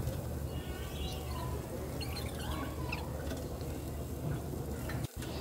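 Fish fries in a pan with pumpkin greens, a continuous close sizzle and faint stirring scrapes after the fish is turned, steady and moderate with no talking.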